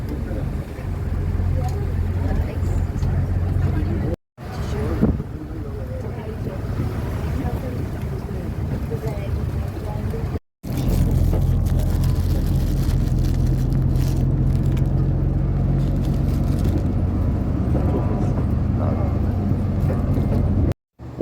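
A tour bus driving through Corfu, its engine giving a steady low drone with some wind noise, broken by two brief cuts to silence.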